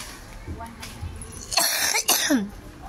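Two sharp, harsh coughs close to the microphone, a short pause between them, over a quiet room with faint background voices in a shopping mall.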